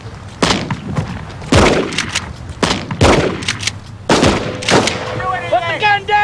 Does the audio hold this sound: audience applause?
no